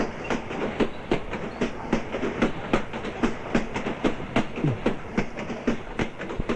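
A train running along the tracks in a Telugu movie scene, with a steady rhythmic clickety-clack of wheels over rail joints and a continuous rumble, close and fairly loud throughout.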